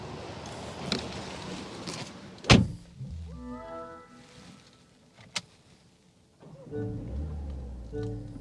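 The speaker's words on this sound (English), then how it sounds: "You'll pull the levers here. It's going to drop down at a 40-20-40 split" The rear bench seat of a 2025 Mini Countryman S All4 folding down in a 40-20-40 split, giving a sharp close thunk, a brief mechanical whir, a second knock and then rustling handling noise.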